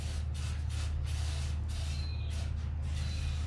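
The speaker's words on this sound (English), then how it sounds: "I'm going to give the bore a good spray." Several short hissing bursts of aerosol lubricating oil sprayed into the cylinder bore of a 1965 Toyota Land Cruiser F engine, close by, over a constant low mechanical hum.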